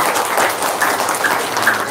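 A short, moderate burst of audience clapping during a live testimony session, steady and even throughout with no voices over it.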